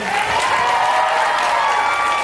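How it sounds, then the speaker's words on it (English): An audience at a black belt martial arts demonstration applauds steadily, a dense wash of clapping with some cheering that stays loud and even throughout. "A big round of applause to our very own Hercules, Mr. Mitchell."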